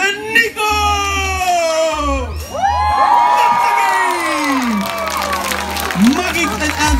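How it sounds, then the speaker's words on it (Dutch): A crowd, many of them children, cheers, screams and whoops for a stuntman who flipped over five kids, with applause underneath, music in the background and a voice over loudspeaker. "Mag ik hem daverend applaus voor de stuntman van de helden."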